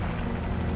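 Helicopter in Call of Duty 4: Modern Warfare, a loud, close rotor drone with a dense, rumbling low end, continuous and alone without speech.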